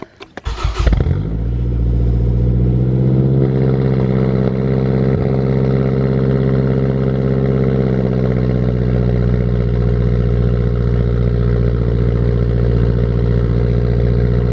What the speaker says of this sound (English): let's do the cold start